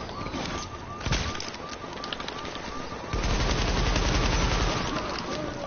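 An automated turret in The Division's Dark Zone fires rapid machine-gun bursts, dense rattling volleys with sharp single cracks, growing louder and more continuous partway through.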